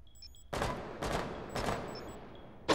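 Video game gunfire rings out in bursts of rapid shots, loud and close, with electronic beeps between the volleys.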